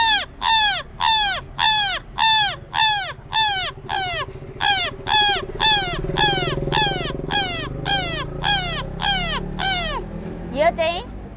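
Someone imitates a village crow with a rapid string of loud, rasping caws in steady rhythm, close to the microphone, ending with a brief higher squawk.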